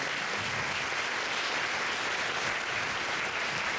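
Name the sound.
audience applause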